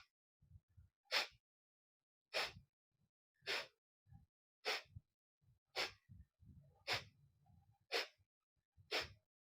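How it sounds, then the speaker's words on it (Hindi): Eight sharp, forceful exhalations through the nose come at a steady rhythm during a postpartum belly breathing exercise, each a close, breathy puff followed by softer inhalation sounds. "साँस को जैसे ही आप बाहर फेंकेंगे तो आपका पेट अपने आप ही अंदर की तरफ जाएगा"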